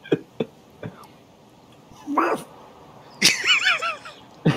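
A person imitates a dog, giving a few short, scattered yelps and bark-like bursts separated by pauses, with a longer, wavering howling bark near the end, fairly close and moderately loud.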